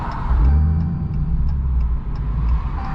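A Dodge Redeye car with an 1100 hp engine runs with a steady, loud low rumble throughout, a faint regular ticking sitting above it and no voices.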